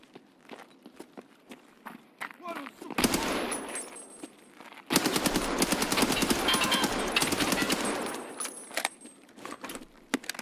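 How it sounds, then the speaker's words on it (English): Automatic gunfire in Escape From Tarkov comes in two rapid bursts, the second longer and louder, with clicking, rattling weapon handling and footsteps in between. "The gun jamming effect is so annoying."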